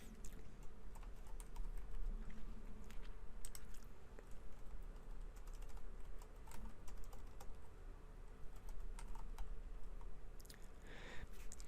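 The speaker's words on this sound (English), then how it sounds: "you can type in text for the answers" Steady typing on a computer keyboard, a continuous patter of close, fairly quiet key clicks with irregular rhythm and no voices.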